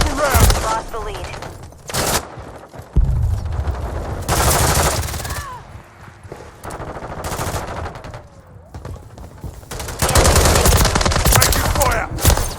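Loud bursts of automatic gunfire in a Call of Duty Modern Warfare III multiplayer match, rapid volleys in several clusters with brief gaps, close and dense, mixed with game effects.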